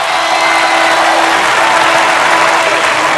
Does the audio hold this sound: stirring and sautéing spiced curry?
no